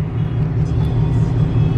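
A pickup truck engine rumbles in a low, steady drone, heard close and constant throughout, with no talk over it.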